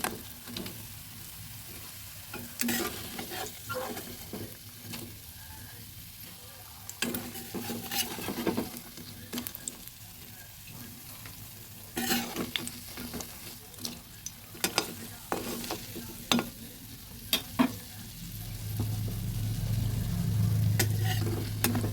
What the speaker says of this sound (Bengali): পকোড়াগুলো ভাজা হয়ে গেছে এক এক করে তুলে নিচ্ছি